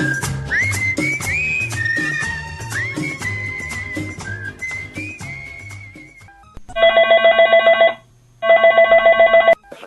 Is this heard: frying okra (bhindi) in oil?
no